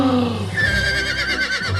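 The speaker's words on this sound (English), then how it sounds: "There's a horse whinny and a black and white flashback." A horse whinnies loudly in a film scene, a rising, quavering neigh that wavers for nearly two seconds over a low background rumble, with no talking.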